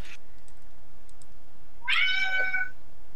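A single clear meow from a cat rises midway through, loud and close, with faint keyboard typing and clicks around it.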